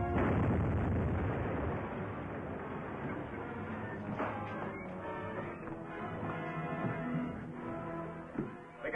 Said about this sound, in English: You mean it's ready to explode?